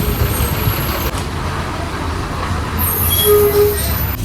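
A bus pulls into Mandangad market in a Konkan village with a heavy diesel rumble, then a brief high squeal near the end of its approach.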